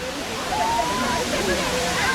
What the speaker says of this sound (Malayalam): വെള്ളച്ചാട്ടത്തിൽ ഇപ്പോൾ വെള്ളം കുറവാണ്